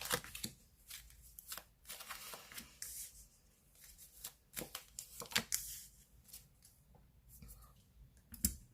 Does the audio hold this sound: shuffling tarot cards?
yes